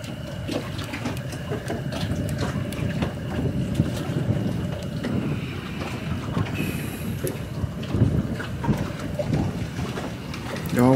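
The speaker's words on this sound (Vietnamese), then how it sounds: "Quá gió." Strong wind gusting on a seashore at night during high tide in Miệt Thứ, Kiên Giang, a steady loud roar with surf wash and scattered gust bursts throughout, no clear talk.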